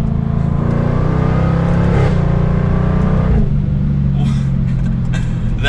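A 2022 Jaguar F-Type R V8 convertible accelerates hard in R mode, the loud close exhaust rising in pitch through the revs, with a gear change partway and a faint voice underneath.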